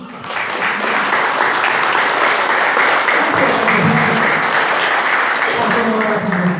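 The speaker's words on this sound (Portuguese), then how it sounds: "Você pode aplaudir Jesus?" A church congregation applauds in sustained, dense clapping that holds steady and fairly loud throughout, with some voices and music faintly mixed underneath.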